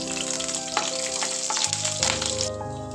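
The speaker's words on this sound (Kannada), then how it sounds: "ಅದ್ರ ಜೊತೆಗೆ ಹಸಿ ಮೆಣಸಿನ್ಕಾಯಿನ ಹಾಕ್ತಾ ಇದ್ದೀನಿ ಇದನ್ನೆಲ್ಲ ಹಾಕ್ಕೊಂಡು ಚೆನ್ನಾಗಿ ಫ್ರೈ ಮಾಡ್ಕೋಬೇಕು" Chana dal and green chillies frying in oil in a pan, a dense, close, steady sizzle with a few faint stirring scrapes, short and uninterrupted with soft music beneath.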